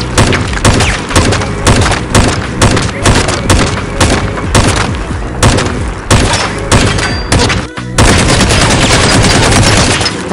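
Loud, dense gunfire from the Fallout 4 video game with modded weapon sounds: rapid overlapping shots and booming impacts fill the whole stretch almost without pause, with only a brief dip near the end.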